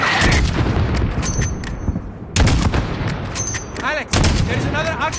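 Gunfire in Call of Duty Modern Warfare, close and loud: dense bursts of shots and booms with brief lulls, alongside faint mixed game sound.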